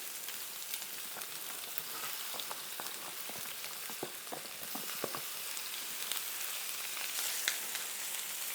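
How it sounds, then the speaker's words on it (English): Steak sizzling in a hot pan alongside onions and mushrooms, a steady close crackling hiss with scattered pops and light stirring clicks throughout, no voices. "while this steak is cooking, I'm just going to start off these onions and mushrooms"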